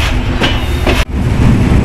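The Chilahati Express pulls out of Natore railway station with a loud, close rumble of rolling wheels and carriages. A brief sharp clunk breaks the steady roar midway, and no voices are heard.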